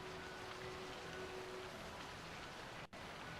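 Steady rain falls over a village in a Final Fantasy game, an even hiss of rainfall holding at a faint level for several seconds, with a brief dropout near the end and no voices.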